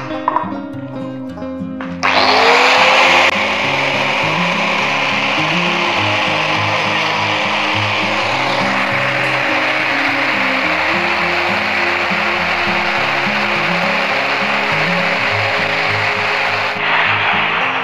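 A plaster of Paris cornice piece being cut by hand gives a loud, continuous rasping scrape that runs steadily for about fifteen seconds after a brief quieter start.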